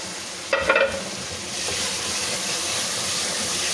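Ready-made pulao masala and red chili powder fry in a pan, a short clatter of stirring followed by a steady, close sizzle that holds on alone.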